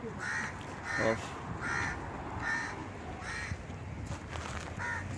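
Crows caw in a steady repeated series, about six calls spaced evenly and fairly close, at a bandstand where stray dogs gather, over a busy outdoor background with a brief voice.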